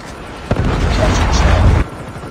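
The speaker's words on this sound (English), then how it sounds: "Predator missile inbound." A Predator missile strike explodes in a Call of Duty Mobile 10 v 10 match on Firing Range, one sharp loud boom that rumbles for over a second, then cuts off.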